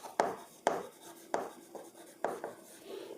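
Marker or chalk writing an accounting entry on a classroom board, a series of sharp taps and scratchy strokes in an irregular rhythm, close and fairly clear with no talk.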